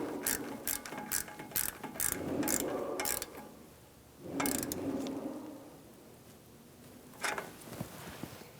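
A ratchet with a 10mm socket clicks in several quick bursts, tightening the starter nut on a Ford E-350 Super Duty 5.4L V8. The sound is close and fairly quiet, with pauses between the bursts.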